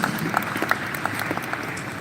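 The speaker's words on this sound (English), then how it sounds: "Give yourself a round of applause for your talents." Audience applause during a leadership talk by Robin Sharma, steady clapping from a large seated crowd with scattered sharper claps standing out, moderately loud and continuous throughout.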